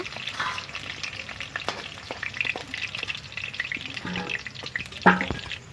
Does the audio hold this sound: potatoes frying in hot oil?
yes